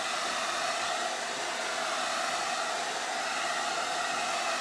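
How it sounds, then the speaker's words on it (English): A hair dryer blows steadily to dry wet paint on a framed summer photo craft project, a loud continuous whooshing roar with no speech over it. "I'm going to take the dryer to it for a second because it's still wet."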